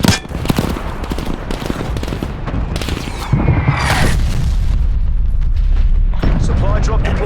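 Incoming artillery fire in the Call of Duty Cold War video game: a dense barrage of booms and gunfire, loud and continuous, with in-game announcer voice lines over the early part.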